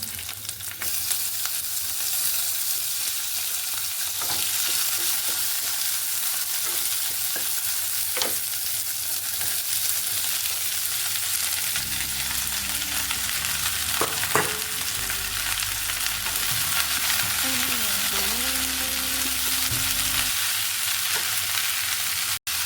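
Cauliflower and other vegetables fry with chili flakes in a pan, a steady broadband sizzle running throughout with occasional stirring clinks and scrapes, close and fairly loud, with no talking.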